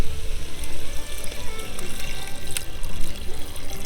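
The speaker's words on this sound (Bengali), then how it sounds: "এবার আমি একটু ঝোলের জন্য জল দেব।" Water poured from above into a clay pot of browned country chicken curry whose oil has separated, giving a steady, fairly loud splashing and gurgling pour that continues through the whole stretch with no talk.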